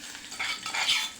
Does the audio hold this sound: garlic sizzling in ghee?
yes